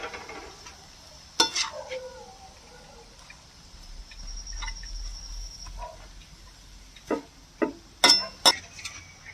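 Parotta being chopped and stirred on a hot tawa for home-made kothu parotta, with sharp metallic clinks and scrapes of the spatula in bursts, mostly toward the end, over a faint steady sizzle.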